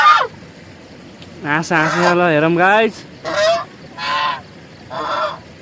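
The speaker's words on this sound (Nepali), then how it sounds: "ए हाँस पो रहेछ हाँसे रहेछ" Ducks at an eco village near a waterfall in Pokhara give a series of loud, close honking calls in uneven bursts, with a brief spoken voice at the start.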